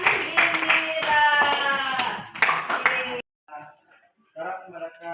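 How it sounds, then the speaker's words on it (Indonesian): A short round of applause from students in a school classroom, dense clapping for about three seconds, followed by quieter sounds after it fades. "Tepuk tangan untuk Pian dan Indira."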